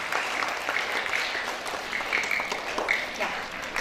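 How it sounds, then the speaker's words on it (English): Lively audience applause at a school science day event for four competing teams, continuous clapping with a few whoops and voices mixed in. "let's give them a huge round of applause for all the 4 teams"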